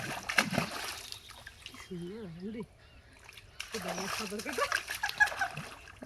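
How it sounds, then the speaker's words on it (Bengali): Water splashes and sloshes from someone swimming in cold water, with bursts of churning splashing at the start and end and a quieter stretch in between while a voice talks and calls out over it. "এটাই আমার সাঁতার কাটা"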